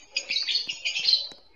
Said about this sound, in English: My love birds. Yes, love birds.